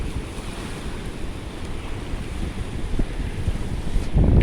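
Ocean surf rolls in steadily at a harbor shoreline where surfers ride the waves, a dense, continuous wash of breaking water mixed with gusty wind noise on the microphone.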